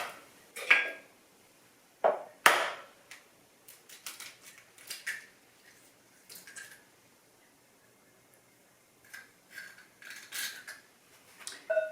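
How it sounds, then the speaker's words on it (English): Eggs being beaten into mashed bananas with a pastry whisk in a bowl: intermittent clicking and scraping strokes with wet squishing, close and fairly quiet, in irregular bursts separated by brief pauses. "I'll use it just to beat the eggs right into the banana"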